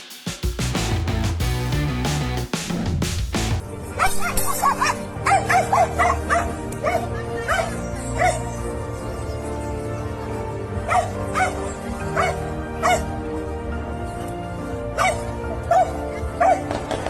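A dog barks repeatedly in short bursts near a body of water, the rhythmic yips and woofs standing out clearly after an opening stretch of other sound.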